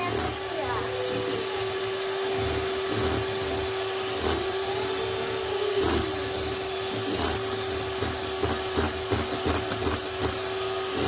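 Electric mixer whipping cream for a birthday cake at home. A steady, high-pitched motor whine runs throughout under children's and adults' voices, with a few sharp clicks and knocks toward the end.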